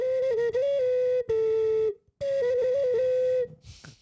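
A steady, shrill whistle blows in a few sustained bursts with slight wavering pitch, broken by a brief pause and ending with a breathy hiss.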